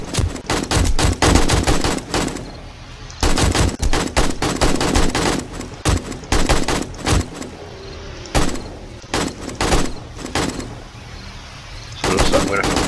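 AK rifle fire in the zombie survival game 7 Days to Die during a horde night, loud repeated automatic bursts and rapid volleys with short pauses between, close and dominant, with a voice talking over parts of it.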